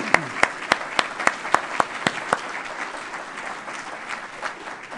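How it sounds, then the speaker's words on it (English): Audience applause at a Columbus Metropolitan Club forum on a school levy, starting with sharp distinct claps in a brisk rhythm and thinning to a softer patter over a few seconds. "Let's give them a round of applause."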